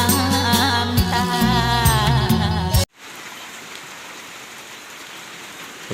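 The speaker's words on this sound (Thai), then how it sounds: "ฝนตกเลยพี่น้องเอ้ย" Heavy rain pours down as a dense, steady hiss that takes over abruptly after loud music cuts off, continuing evenly to the end.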